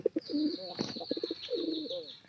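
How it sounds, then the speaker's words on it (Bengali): Pigeons coo in a short series of soft throaty calls close by, with a brief rustle or wing flutter in the middle. "কবুতর প্রায় ভালো সব জায়গায় ডাকাডাকি করে"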